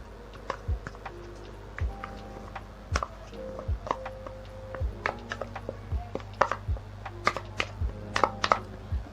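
A spoon works slowly through an oatmeal and milk face mask mixture in a bowl, giving irregular close taps and soft knocks against the sides over a low steady background.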